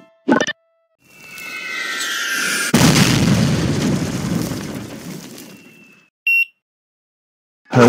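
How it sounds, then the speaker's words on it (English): A rising whoosh leads into a loud booming blast with a long rumbling tail, mortar explosion sounds in a tower defense video game, followed by short electronic blips. "Hope you're ready for this explosion."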